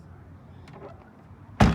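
A truck's cab door is worked during a pre-trip inspection, with faint creaks and movement followed by a single loud, close thud at the end.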